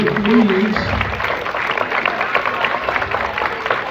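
A school assembly crowd claps for its student council members, a dense, steady patter of applause filling the room from start to finish, with voices mixed in.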